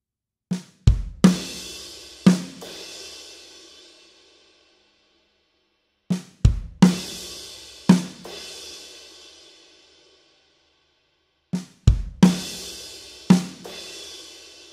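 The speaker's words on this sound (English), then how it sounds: "left ghost note accent on the snare, kick, hard hit left hand with the crash on your right hand" A slow drum fill in a worship drum lesson, played three times with sharp snare accents, kick hits and crash cymbal strikes that ring out and fade between repetitions, close and unaccompanied.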